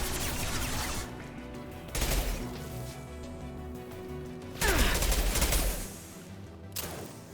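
Gunfire in the sci-fi shooter Mass Effect Legendary Edition: bursts of rapid weapon fire and impacts in two or three loud clusters with quieter combat noise between, no talk.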